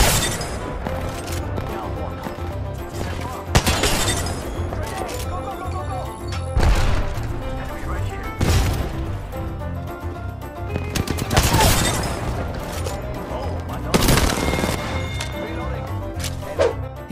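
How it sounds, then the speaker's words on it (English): Heavy Kraber sniper rifle shots in Apex Legends ring out as a handful of sharp, widely spaced booms over a dense, busy game soundscape, with voices present. "When the opportunity to grab a Kraber presents itself, never pass it up, especially if you're landing shots like this next play."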